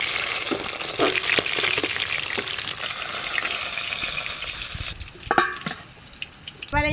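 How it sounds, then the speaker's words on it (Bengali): Rohu fish pieces fry in hot oil, producing a loud, continuous sizzle with stirring clicks, which thins out near the end into sparser crackles and a few scraping knocks. "এবার এই মাছের মাথাগুলো ভেজে নেব।"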